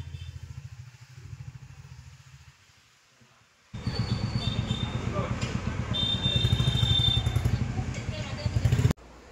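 A new Royal Enfield motorcycle runs with a pulsing thump, first a lighter idle, then a brief quiet gap, then a louder, closer throb as the engine pulls away and keeps riding.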